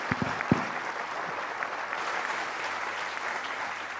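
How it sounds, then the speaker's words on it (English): Audience applause after a talk by the UN Secretary General at a conference hall event, dense steady clapping at moderate volume with a few sharper near claps early on. "Please join me in applauding the Secretary General for his intervention"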